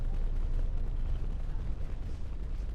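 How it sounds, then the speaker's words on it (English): Turrets firing nonstop in the Star Wars game Knights of the Old Republic II, a dense, low, rumbling barrage of distant blasts rolling continuously without pause. "Those damn turrets are going crazy."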